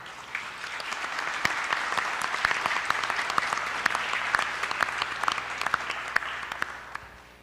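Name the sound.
audience applause at conference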